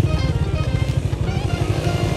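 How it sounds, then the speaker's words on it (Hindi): A group of motorcycles rides past close by on a path near the Pakistan–India border, producing a loud, steady, pulsing engine drone throughout. "ये आ रहा जी टोला सारा बाइक वाला"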